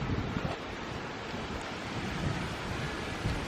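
Wind gusting steadily through autumn garden beds of lupins, aquilegia and a thrashing poppy, a broad rushing roar with mic buffeting, swelling slightly in places and continuous throughout, no voices.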